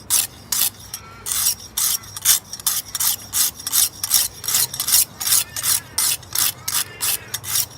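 A knife blade is worked on a sharpening system, the stone drawn across the edge in a steady series of about twenty rhythmic rasping strokes, close and fairly loud, with no talk.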